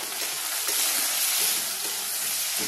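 Onions and chopped tomato frying in hot oil, giving a steady, dense, loud sizzle and hiss that carries on evenly throughout with no talk.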